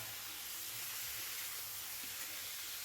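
Pointed gourd (potol) pieces lightly fry under a lid in a covered pan, giving a steady, even sizzling hiss that holds for the whole stretch with no voices over it.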